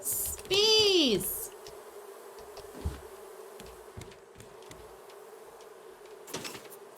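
Bees buzzing in the survival video game Raft, a loud buzzing burst with a falling whine early on, then faint scattered clicks and low ambient hum.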